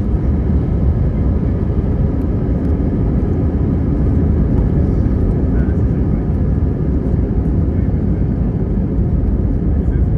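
Steady broadband roar of jet engines inside a passenger airliner cabin in flight, constant and loud throughout, with a voice briefly speaking over it.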